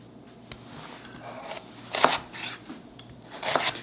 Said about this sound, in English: chop this onion